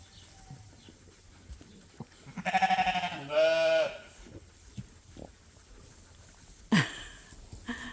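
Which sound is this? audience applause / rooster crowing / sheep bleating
sheep bleating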